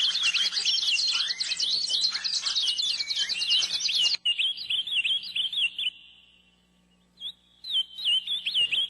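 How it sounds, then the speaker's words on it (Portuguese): Many birds singing at once, a dense tangle of high chirps and whistled phrases that thins to a few calls, briefly drops out, then returns with scattered tweets. "cada vez que eu mexo no violão, são os pássaros que cantam."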